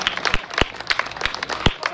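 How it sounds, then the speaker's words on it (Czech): Audience applause welcoming a drum group at a Ratha Yatra festival show in Prague: scattered, moderately loud claps with a few sharper individual hand strikes rising above the crowd noise. "Takže Cold Drummers a přivítáme je potleskem."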